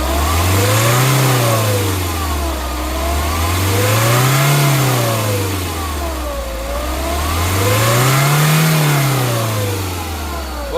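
A used Hyundai i20 diesel car engine is revved three times from idle, each rise and fall slow and smooth, loud and close with no talking.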